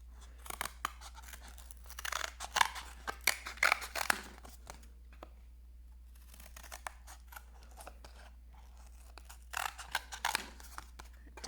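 Scissors snip through paper to cut a star shape, quiet close clicks and crunchy cuts coming in short bursts separated by pauses.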